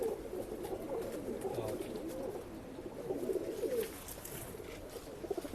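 Pigeons for sale in Bangalore coo softly in repeated low, rolling phrases, faint and close, with light background noise between the calls.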